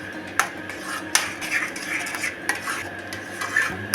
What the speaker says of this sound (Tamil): இதை மாங்காவோட நல்லா மிக்ஸ் பண்ணி விட்டுடுங்க